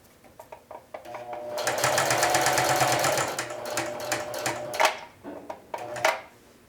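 A sewing machine stitching a flag patch onto a denim jean jacket, with a sustained close run of rapid mechanical needle clatter followed by short stop-start bursts and clicks as the fabric is adjusted.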